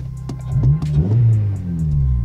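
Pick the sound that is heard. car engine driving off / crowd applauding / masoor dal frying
car engine driving off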